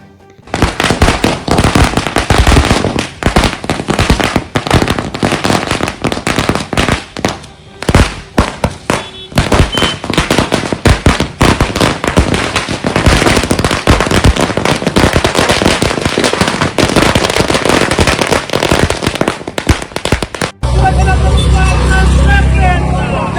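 Firecrackers set off by party workers at a political celebration in Sindhudurg: a loud, dense run of rapid crackling bursts that continues almost without pause, with road traffic and voices faintly underneath.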